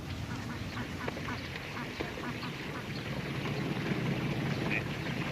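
Peking ducks quack out in open countryside, a steady rural background with a faint mechanical hum underneath, the calls scattered and moderately distant rather than close.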